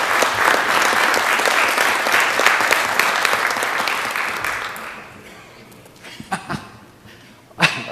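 An audience at a city council meeting applauds the youngest healthcare volunteer, dense clapping that tapers off after about five seconds, followed by a few scattered claps and soft noises.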